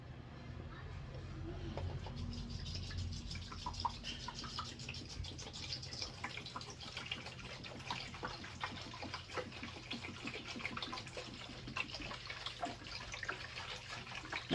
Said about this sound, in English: I'm going to go ahead and put the nutrients, or the first jug of water in.